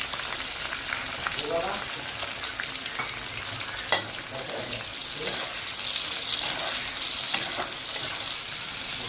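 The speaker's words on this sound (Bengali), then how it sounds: "পেঁয়াজটা একটু লাল লাল করে ভাজা" Onion frying in a pan with bay leaf, dried chilli, cinnamon, cloves, cardamom and black pepper, giving a steady close hiss and crackle with occasional stirring scrapes and light knocks, and no talk.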